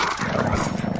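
A dog in the VR shooter Contractors gives a short burst of rough, fairly close barking that runs for about a second against game noise.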